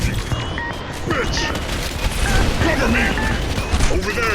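In the sci-fi shooter EXOSHOCK, a grenade blast bursts amid steady gunfire and mechanical combat noise, loud and close, with a voice speaking over the chaotic battle mix.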